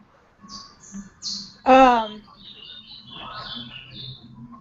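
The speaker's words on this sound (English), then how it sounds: "the birds are back" Birds chirp in short, high, bright bursts, scattered and fairly close, with a louder call partway through and people talking faintly beneath.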